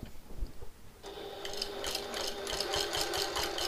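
A sewing machine runs steadily over earlier handbag seams, its close mechanical whirring and ticking starting after a second of quiet handling noise and continuing to the end.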